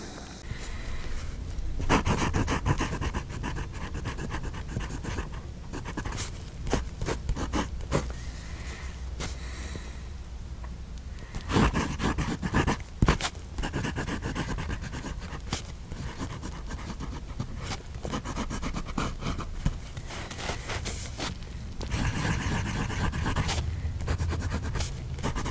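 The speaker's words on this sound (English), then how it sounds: "So you heard the nib on paper." Scratchy, continuous scraping of a Moonman T1 fountain pen nib on paper, with short strokes and pauses, close and dry, no voices.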